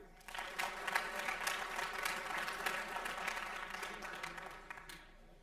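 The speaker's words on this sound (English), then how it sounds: "I also want to ask you for another applause for them" Sustained applause from an audience honoring athletes at a spring sports awards ceremony, a dense, steady clapping that fills the room for several seconds before tapering slightly at the end.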